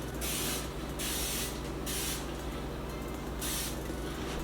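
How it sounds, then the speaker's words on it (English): Cooking spray from a can is sprayed onto a non-stick donut tray in several short hissing bursts, close and fairly loud, with brief pauses between them. "spray it with this cooking spray"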